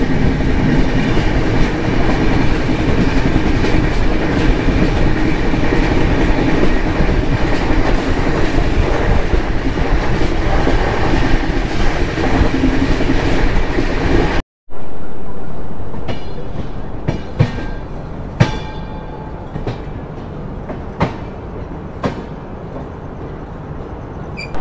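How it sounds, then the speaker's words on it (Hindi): Passenger train running on the line out of Daund Junction in India: loud steady rumble and wheel noise for the first half, then a sudden cut to a quieter interior stretch with scattered rail clicks and clacks. "हमारी ट्रेन निकल चुकी है दौंद जंक्शन से"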